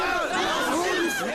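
Protest crowd in New York City, a dense wash of many voices shouting and calling out together, close and loud throughout with no pause.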